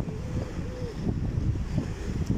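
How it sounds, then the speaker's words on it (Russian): Strong sea waves wash against the rocky, shallow shore in Sevastopol, a steady low roar mixed with gusting wind buffeting the microphone. "волны сильные"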